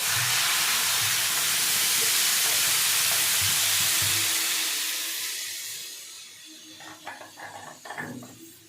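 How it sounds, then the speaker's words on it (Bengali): Water poured into a hot pan of cucumber chutney bursts into a loud, dense hiss and sizzle that holds for several seconds, then fades into quieter bubbling with a few stirring knocks toward the end. "এবার আমি পরিমাণ মতো জল দিয়ে দেব।"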